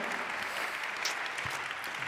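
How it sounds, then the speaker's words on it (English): An audience at a conference applauding, a steady dense wash of many hands clapping together, moderately distant and even throughout with no voices on top. "Let's give a round of applause to Nastasi and Same for their contributions."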